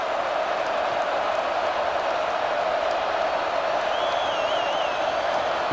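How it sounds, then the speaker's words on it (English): Crowd noise in the College Football 26 video game, a dense, loud, unbroken roar of cheering stadium fans filling the whole stretch with a faint whistle rising near the end. "You think this crowd's going to get loud when their defense comes on the field?"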